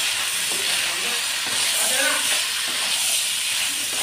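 Turmeric and chili powder frying with ginger garlic paste in a pan for a fish curry, a loud, steady, steamy hiss and sizzle with faint scraping of stirring underneath.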